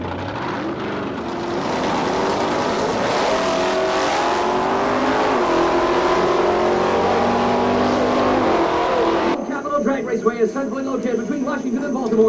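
Drag race cars at Capitol Drag Raceway, including a 66 Chevelle from Warwick, Rhode Island, make a loud engine roar with rising and falling revving tones that build steadily, then cut to rougher, choppier engine sounds, under an announcer's voice.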